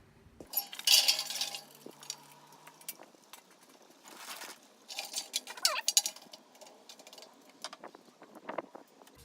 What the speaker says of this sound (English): The cold grate is coming on.